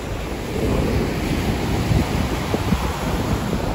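Steady, loud rush of ocean surf breaking on the beach at Mirissa, Sri Lanka, with continuous wind buffeting the microphone and no speech.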